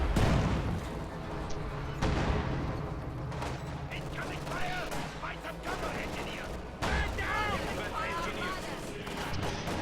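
Light machine gun fire from a video game battle rattles in bursts with scattered distant shots and explosions, moderately faint, with a voice commentating over the action.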